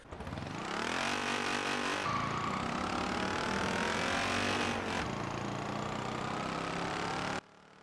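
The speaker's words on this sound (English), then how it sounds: "Let's see how fast the Peel can go in 5 seconds." A Peel P50 microcar accelerating in the racing game Forza Horizon 4, its small engine note rising steadily in pitch with a gear change midway, droning loudly for about seven seconds before cutting off abruptly.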